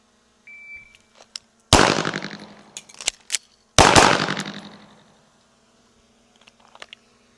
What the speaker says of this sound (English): let's do 1 shot to the left target, reload. Another 2 rounds to the right target